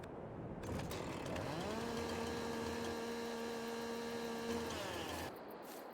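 A chainsaw in the video game Farming Simulator 22 cuts stumps on the Pioneer map. The engine revs up into a sustained, steady whine for several seconds, then winds down to idle, moderately close and with no speech.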